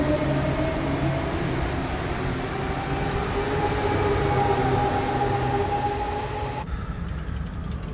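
A Sprintercity train running in Train Simulator 2022 on a run toward Apeldoorn, heard from the non-motor end: a steady, loud rolling rumble with a faint whine, continuous throughout and free of talk.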